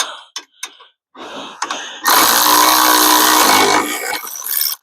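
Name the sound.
electric ratchet running, removing wheel bearing parts on Polaris RZR XP1000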